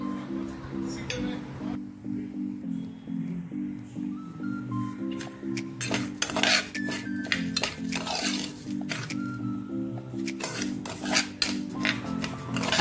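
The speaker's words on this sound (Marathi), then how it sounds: "जाडसर हा लापसीचा रवा आहे तो आपण छान तुपामध्ये लालसर होईपर्यंत भाजून घेऊया।" Coarse lapsi rava is stirred as it roasts in ghee in a pan, making repeated close metallic scrapes and clinks of the spoon against the metal, over a low, steady hum.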